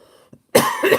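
A single sharp cough from a man indoors, loud and close after a brief quiet breath, with no other sound around it.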